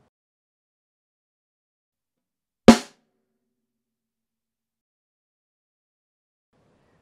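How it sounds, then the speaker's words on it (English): One crisp hit on a Pearl Chad Smith signature snare drum fitted with a drum ring, short and dry with the ring quickly choked, surrounded by silence. "This is the sound of the snare drum with a drum ring on it"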